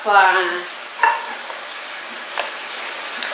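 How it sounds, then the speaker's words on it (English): A pork chop browns in a frying pan, a steady close sizzle with a brief tonal squeak at the start and a few soft clinks over the hiss. "While you're browning your pork chop"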